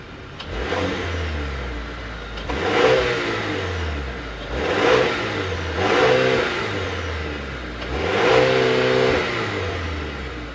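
A 2026 Buick Enclave Avenir AWD with a 2.5-liter turbocharged four-cylinder and dual exhaust tips idles, then revs four times in succession, each climb and fall distinct and close by with no talking.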